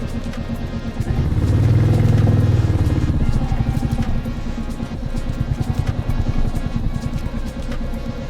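A motorcycle rides along a valley road toward a mountain temple, its engine droning steadily with a rising surge early on, then a close, even rhythmic putter with rattling over the rough path.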